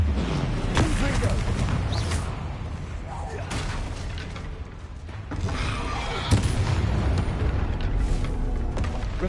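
Repeated Confringo fire-spell blasts in the video game Hogwarts Legacy, a run of booming impacts and crackling bursts over steady game background, with shouted voices heard around them.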